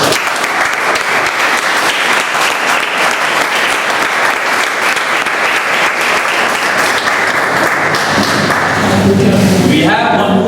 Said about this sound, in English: So one big round of applause.